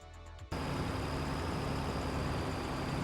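A tractor engine in Farming Simulator 22 runs as a steady, dense, even drone that cuts in abruptly after a brief quieter moment and then holds constant.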